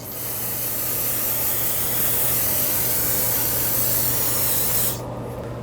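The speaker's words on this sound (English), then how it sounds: "So take some brake parts cleaner and just rinse it over a collection bucket." Brake parts cleaner sprays onto a 2015-2020 Ford F-150 front brake rotor held over a collection bucket: a loud, steady aerosol hiss lasting about five seconds, then cutting off sharply.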